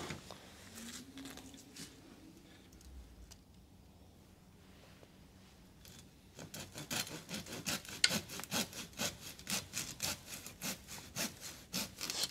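A hand saw cuts through a soft, rotten Japanese maple branch, quiet scraping at first and then a steady run of loud, rhythmic back-and-forth strokes, close up with no talking.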